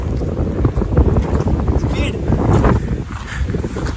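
Strong wind buffets the microphone in a steady, rumbling roar over an open outdoor spot near Ramanagara, with a voice speaking underneath.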